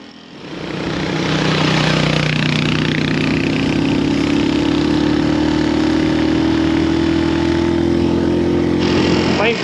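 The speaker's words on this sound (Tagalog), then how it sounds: "So, naka-TMX ako ngayon. Nagpalit kami ng motor." A Honda TMX motorcycle engine drones steadily while riding a foggy mountain road, with a low, loud, constant hum and a rough exhaust buzz that swells within the first second and then holds even, close to the rider.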